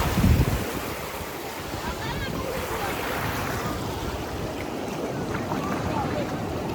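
Surf rolling onto the beach at Antarvedi, a continuous broad wash of waves mixed with wind buffeting the microphone, opening with a brief heavy thump.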